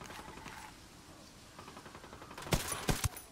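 Suppressed sniper rifle shots in Ghost Recon Wildlands: quiet ambience, then three sharp muffled reports close together near the end.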